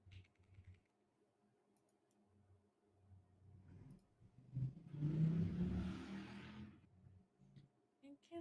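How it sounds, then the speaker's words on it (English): A motorcycle passes outside, swelling from a quiet room hum into a loud roar for a couple of seconds before fading away again. "Motorcycle startled me."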